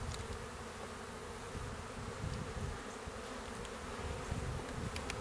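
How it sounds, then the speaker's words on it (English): Honey bees buzz softly around an open hive during a frame-by-frame inspection, a low continuous hum with faint individual wingbeats rising and falling, quiet and close. "And so I'm agitating the bees a lot less."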